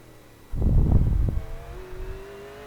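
A V8 race car engine at Bathurst in iRacing, a short loud throaty burst of engine roar lasting under a second, then a rising whining tone as the car pulls away.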